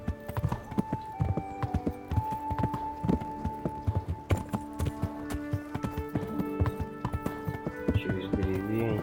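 Galloping horse in Kingdom Come: Deliverance, with a steady, fast clip-clop of hooves throughout, close and loud over tonal background music and game ambience.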